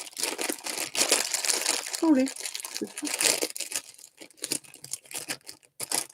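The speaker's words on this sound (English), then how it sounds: "all I could hear was you rustling and crunching" Close, loud crinkling of a plastic snack packet in bursts, with a person briefly speaking partway through.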